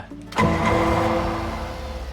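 A car engine in Goat Simulator 3 kicks in abruptly and settles into a steady mid-pitched drone, loud and close, holding on with slight fluctuations.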